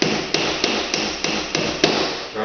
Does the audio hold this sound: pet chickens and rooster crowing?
no